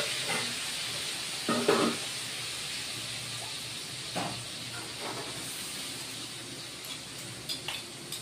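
A paste of tomato, dried and green chili and ginger, cooked with soya chunks, sizzles in a pan with a steady, soft hiss, and a few faint clinks of stirring rise above it.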